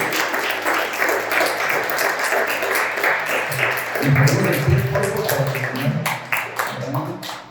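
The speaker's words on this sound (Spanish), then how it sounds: "Le damos un aplauso a Jesús." A church congregation applauds Jesus together, a dense wash of clapping that carries steadily through the whole stretch and swells near the middle, with voices mixed in underneath.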